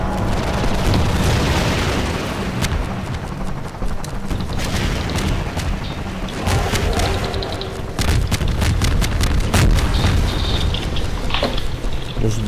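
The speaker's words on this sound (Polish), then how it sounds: "wybuchnęło." Explosions and gunfire from the video game Half-Life 2, a sustained loud barrage of booms, bursts and pops running without pause, with sharp blasts standing out near the middle and again toward the end.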